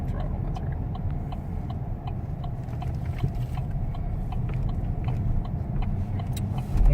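A 2017 Chevy Silverado pickup with electronic throttle cruises along, its engine and road rumble a steady low drone heard from inside the cab, with faint ticks and rattles and no talking.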